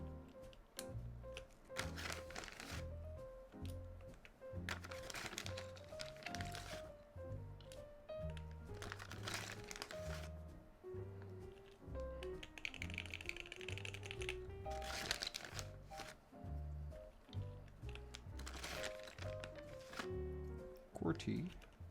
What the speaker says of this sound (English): Touch typing.